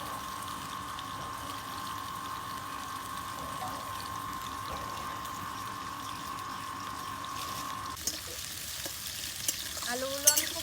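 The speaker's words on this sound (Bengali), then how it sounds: "আলুগুলো আমি এখন ভেজে নেব।" Potatoes frying in hot mustard oil in a wok, a soft, steady background sizzle under a constant hum, with a few stirring clinks and scrapes toward the end.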